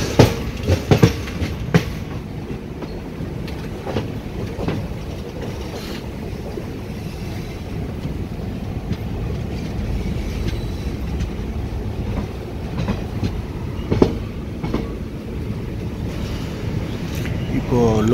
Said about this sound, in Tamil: வண்டி கரெக்ட் டைமுக்கு வந்துட்டுருக்கு, பிஃபோராகவே வந்துடுச்சு வண்டி.